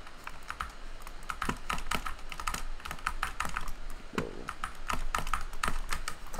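Rapid, uneven typing on a SteelSeries Apex Pro mechanical keyboard fitted with new keycaps, close and crisp key clacks in irregular bursts with no talking.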